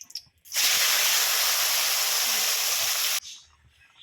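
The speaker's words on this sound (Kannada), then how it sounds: "ತೊಳೆದಿಟ್ಟಿರೋ ಚಿಕನ್ ಹಾಕ್ಬೇಕು" Washed chicken pieces dropped into hot oil with turmeric burst into a loud, steady sizzle that lasts about three seconds, then cuts off sharply, with quiet kitchen sounds on either side.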